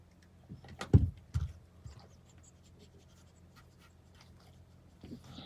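A dog in a camper van with new chew toys and treats gives a few close rustling, snuffling bursts of play early on, then a long quiet stretch with only faint movement.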